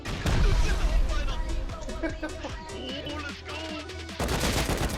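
Gunfire in the video game Rust comes in rapid bursts and single shots, loud and close, with intermittent voices and background music during the fight.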